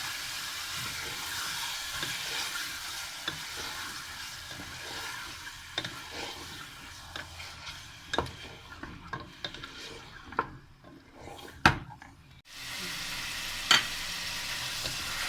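Beef with onions browns in oil in a pot for haleem, a continuous moderate sizzle broken by scattered scraping and clinking of a spoon stirring, with a brief quieter lull near the end.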